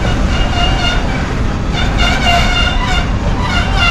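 Long freight train, about a mile in length, rolling slowly past near an abandoned railway site, giving a steady, continuous loud rumble with rhythmic wheel and wagon clatter throughout, no talk.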